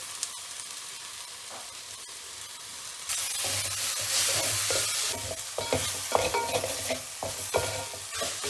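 Tomatoes and onions sauté in a pan. A gentle sizzle jumps suddenly louder partway through, then carries on under repeated scraping and clattering as the mixture is stirred.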